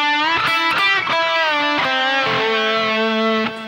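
Distorted electric guitar plays a lead phrase, with sustained, bent notes that step between pitches in a steady, loud phrase with no talking.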